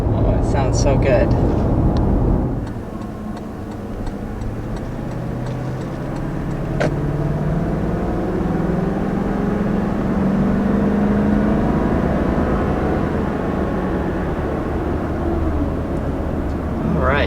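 A 2019 Toyota Land Cruiser SUV pulls away, its engine building from a loud start into a long, steady drone that rises slowly in pitch while cruising, heard from inside the cabin.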